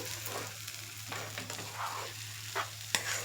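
Mustard and spice tempering sizzles and crackles in a pan for a raw mango and coconut chutney. Soft, steady frying comes with a few sharper pops and stirring scrapes over a constant low hum, and no one speaks.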